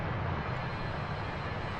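Steady, loud drone of a single-pilot airplane's engine during a climb on a hockey charter flight from Buffalo, a continuous low rumble filling the cabin with no talk.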